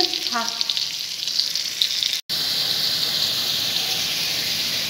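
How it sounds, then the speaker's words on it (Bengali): Potatoes fry in oil with a constant bright sizzling hiss close by, briefly cut by a short gap midway, then continuing evenly. "আলুটা ভেজে নিচ্ছি।"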